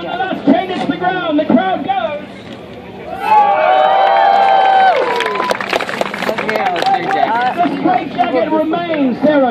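A street performer's crowd in Stanley Park cheers and whoops loudly for a few seconds, surging mid-clip amid chatter and someone talking before and after.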